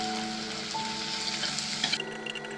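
Carrots, beans and other vegetables for a Kerala-style soup sizzle in a pan while being stirred, a loud continuous frying hiss with small scraping clatters near the end, heard close with no talk.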